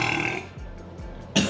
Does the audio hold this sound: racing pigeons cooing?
no